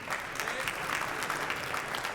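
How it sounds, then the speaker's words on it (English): Crowd applauding at a squash match, a moderate stretch of steady clapping from a mid-distance audience, with some background voices mixed in. "Appreciative applause there from the crowd"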